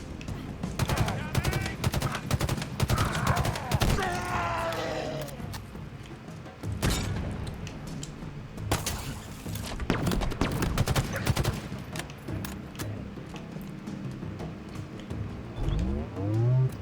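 Halo Infinite combat with rapid bursts of gunfire and heavy grenade explosions, dense and loud throughout, with sharp blasts and thuds punctuating continuous firing.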